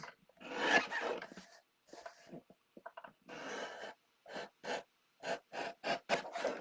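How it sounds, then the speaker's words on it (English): Scissors trimming the rounded corners off paper cards, a series of short crisp snips and rasping cuts in quick bursts, close and fairly quiet, with no talking. "I am just going to trim these down to get rid of these rounded corners"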